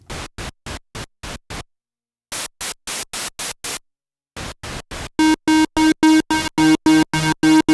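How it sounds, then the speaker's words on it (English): Bursts of white noise from the mixer of a Behringer Model D analog synthesizer switch on and off in rhythmic chopped blocks, separated by silences, later joined by a pitched tone, loud and close with no talking. "We can select from a white noise or a more musical pink noise."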